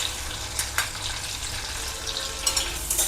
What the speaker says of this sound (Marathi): हा मसाला लोण्यामध्ये भाजून घ्यायचा आहे